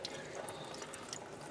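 Kitchen sink tap runs water at low flow while poblano peppers are rinsed, a soft, steady hiss and trickle heard up close throughout, with faint small clicks in the spray.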